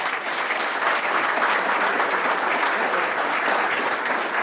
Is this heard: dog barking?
no